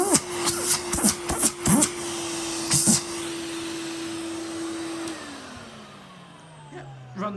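A Filter Queen Majestic 231UK vacuum cleaner motor hums steadily, with a voice speaking over the start; near the end the motor's pitch slowly drops as it winds down.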